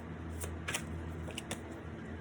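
A deck of cards is shuffled quietly, with a few crisp riffling bursts over a faint steady hum and no talking.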